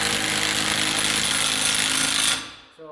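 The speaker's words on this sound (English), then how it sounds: "you just take and screw your lag in" A power driver runs loud and steady as it sinks a lag screw into a wall for a handrail, a harsh continuous whir that cuts off abruptly near the end.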